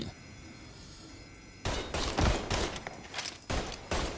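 Gunfire in the video game Mafia III: after a quiet stretch, loud rapid bursts of shots crack and echo in several clusters, close and dense, with no voices heard.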